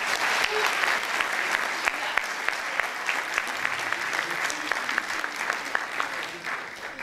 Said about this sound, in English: Please, your applause, guys. Now you can applaud.